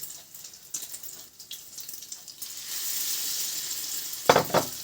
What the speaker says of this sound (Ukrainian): І ложу на сковородочку і смажу потихеньку на повільному вогні.